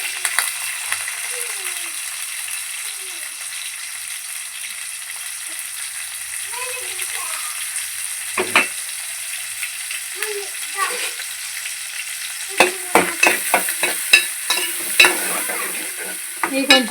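Onions and green chillies frying and being stirred in a pan, with a steady soft sizzle and scattered scraping stir clicks that grow busier toward the end.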